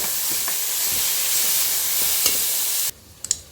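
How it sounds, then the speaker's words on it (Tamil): Onions and carrots sautéing in a pan for Arabian beef kabsa, a steady loud sizzle and hiss with faint stirring, cutting off abruptly near the end before a couple of light clinks. "இப்போ கேரட்டையும் சேர்த்து வெங்காயத்தோடு நல்லா வதக்கிக்கிறணும்"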